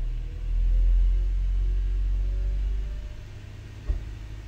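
A 2008-2012 Honda Accord engine holds a steady low idle near 800 RPM, its deep rumble swelling as the revs rise, then easing back, with a brief sharp knock near the end; no one speaks.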